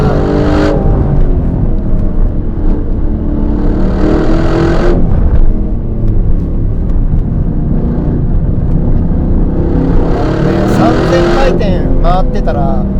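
A 2025 Aston Martin Vantage's engine pulls hard along a winding road, a loud, close, continuous roar with rising and falling pitch as it accelerates, droning without a break from start to finish.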